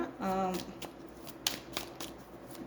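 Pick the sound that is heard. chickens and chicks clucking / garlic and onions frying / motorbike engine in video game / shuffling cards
shuffling cards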